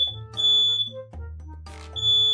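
A smoke alarm gives a few sharp, high-pitched beeps, close by, with other household noise faintly underneath and no talking.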